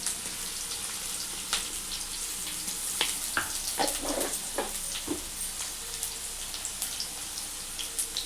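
Chopped onions frying in a pan with ginger-garlic paste and a pinch of turmeric for a gram-flour potato fry, giving a steady close hiss broken by scattered crackles and pops, with no voices.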